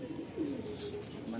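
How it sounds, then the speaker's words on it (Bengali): Pigeons at a loft give soft, low coos in several short strokes, faint and fairly close, over a quiet background murmur. "এই হচ্ছে দুটো পায়রা।"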